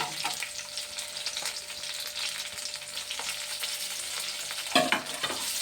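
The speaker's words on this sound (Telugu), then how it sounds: "ఇది కూడా వేగాలండి. చూడండి వేగుతున్నాయి." Food fries in a pan with salt pieces added, a steady close sizzle with stirring and scraping, and a louder clatter near the end, with no talk.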